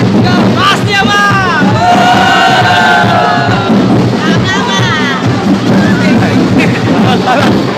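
A dense crowd of Black Nazarene devotees in Quiapo shouts and cheers continuously during the procession, loud and close, with rising whistles and chanted calls over the roar.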